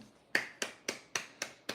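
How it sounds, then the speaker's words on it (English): Six sharp hand claps in a steady, even rhythm, close and crisp, each dying away quickly in a quiet room with no talk. "Let's clap it up."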